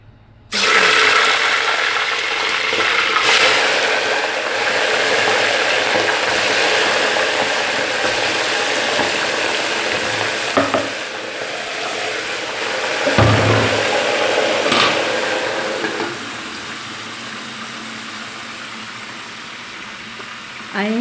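Chicken pieces fry in hot butter inside a pressure cooker, giving a steady, loud sizzle and crackle that runs nearly throughout, softening toward the end, with a few clanks of utensils.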